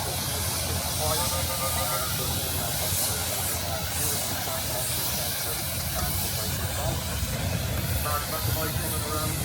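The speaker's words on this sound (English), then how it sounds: "a beautiful example of a single crank compound engine" A single crank compound steam engine running at a steam threshing festival, a loud continuous hiss and rumble of steam with mechanical noise throughout.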